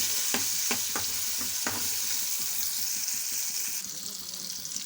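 Ingredients with tamarind sizzling in a pan for a raw tamarind pulusu, a steady bright fry with a few sharp stirring clinks early on, close and alone without talk.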